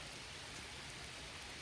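Rain falls at a lake as a faint, even hiss of drops that runs steady and unbroken throughout.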